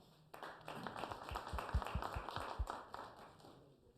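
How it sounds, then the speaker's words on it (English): Applause for a speaker at a City of Rialto community forum: a small audience claps in a brief, moderately quiet round of about three seconds that swells and then tapers off. "Give Rob a round of applause."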